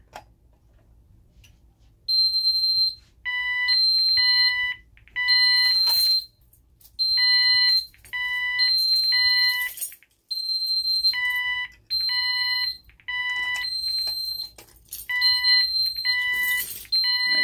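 An Ademco 6137R alarm keypad sounds its fire alarm: loud, piercing electronic beeps in repeating groups of three, with short pauses between groups, steady and close with no talking.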